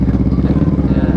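A stock Yamaha Mio M3 scooter engine hums with a close, steady, pulsing putter during a test ride.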